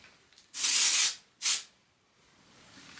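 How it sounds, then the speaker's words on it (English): Two hissing aerosol sprays of hair texture spray, one longer burst then a short one, close and loud against a quiet background. "I want to use some texture spray because I would love some extra volume right here"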